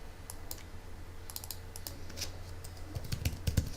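Rapid keystrokes on a computer keyboard, a steady run of light clicks and taps that grows busier and slightly louder toward the end, heard alone over a low background hum.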